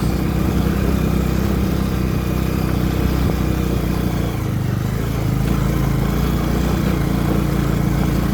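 A motorcycle rides along a steep, dangerous mountain road, its engine a steady, unbroken drone that runs loud and close for the whole stretch with no talking.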